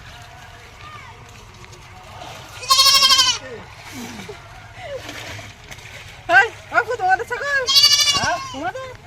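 Several goats bleat loudly in short bursts, some close by, with people talking in between.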